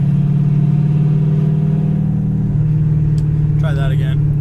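A 1966 Ford Fairlane 500 XL with a three-speed column shifter drives along, its steady engine drone and road rumble shifting pitch partway through as a gear change happens, with a brief higher-pitched sound near the end.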